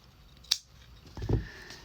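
Scissors snip through fabric while a fabric bowl is being made, giving a quick sharp cut followed a moment later by a second, louder crunching snip, close and with no voices.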